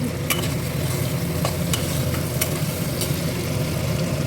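Sago pulao fries in a pan while being stirred, giving a steady, close sizzle throughout with occasional sharp scrapes and clicks of the spoon against the pan.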